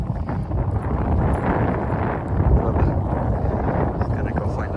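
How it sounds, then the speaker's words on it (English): Wind blows hard outdoors at a truck camper site, a steady loud roar and buffeting against the microphone throughout, with no talking. "It says it's supposed to be windy through noon"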